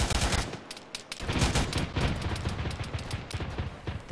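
Heavy weapons fire from a BMP armored vehicle in Arma 3 pounds in dense, rapid bursts with booming impacts, loud and sustained throughout, no voices.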